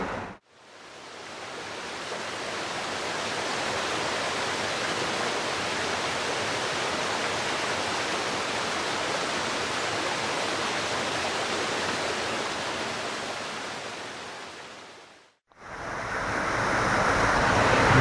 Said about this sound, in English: I'm pretty sure I can hear it from here